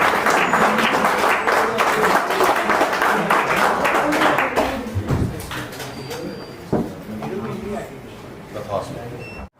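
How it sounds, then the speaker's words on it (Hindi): Audience applause at a student review event in India, dense clapping loud at first and then thinning into scattered claps, with talk mixed in. "जोरदार तालियां।"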